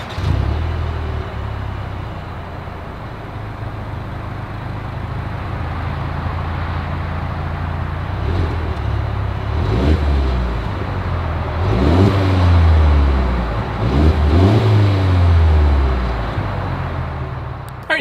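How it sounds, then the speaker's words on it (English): A 2022 Mercedes-Benz GLE 350 SUV's exhaust runs at a steady idle, then rises through a few revving swells with deeper pulses toward the end, close and loud throughout. "As always, here is that exhaust clip."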